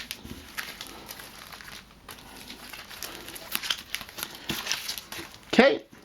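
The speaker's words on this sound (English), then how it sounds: "I saw that, so we'll give it another good shuffle." Near the end comes a brief, sharp riffle of Kingdom Death Monster settlement cards being reshuffled, following a stretch of quiet background rustling and low speech.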